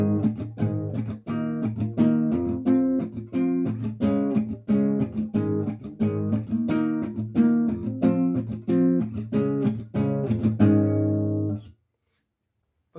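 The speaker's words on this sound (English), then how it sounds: "if you want to do like that rhythmic muted strum" A guitar is strummed in a steady rhythmic pattern with short, choppy chords, ending on a held chord that rings out.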